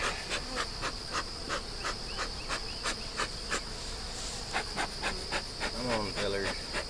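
Bees swarming at the top of an open honey hive, a dense steady buzzing with rapid pulsing, close and loud, as a person moves about nearby.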